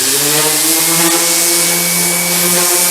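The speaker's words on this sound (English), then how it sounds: "I'll bring out my high-speed drill sander." A high-speed drill sander whines steadily against a rusty metal wheelbarrow, a loud continuous grinding hiss with a sustained motor tone.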